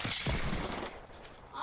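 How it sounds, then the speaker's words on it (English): Rapid bursts of video game gunfire crackle and rattle through a busy, dense mix, loud at first and easing slightly before picking up again near the end, with a kid's voice faintly in the background. "I'm getting shoot at!"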